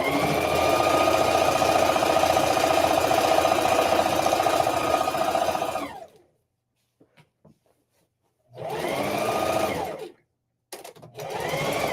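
A sewing machine stitches a tote bag with a loud, steady whirring run for several seconds, then stops, then restarts in two shorter bursts separated by silence.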